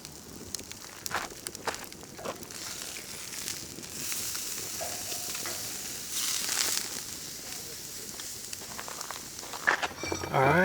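A steak searing on a grill at a truck camp by the Colorado River near Moab, a soft crackling sizzle running throughout with scattered clicks and handling noises, rising slightly midway.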